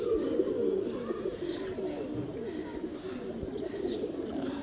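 Several pigeons coo together in a loft, a low throaty burbling that rolls on steadily and close for the whole span without pause, no talk over it.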